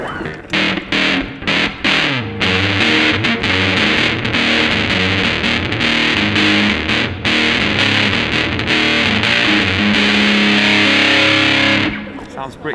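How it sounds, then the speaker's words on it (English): Heavily fuzzed electric guitar, thick and buzzy, with chopped chords giving way to sustained, saturated notes at high volume. "We also have some fuzz."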